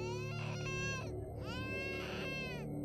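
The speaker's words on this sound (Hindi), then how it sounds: "बस सिर्फ उसके बच्चे के रोने की आवाज आ रही थी।" A baby cries in loud, wavering wails, several drawn-out sobbing bursts broken by brief breaths, set over a low steady hum in an animated night-driving horror story.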